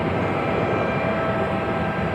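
An Airbus A380 airliner at LAX sends a steady, loud engine roar across the airport. A broad rumble holds with no pauses and no voices.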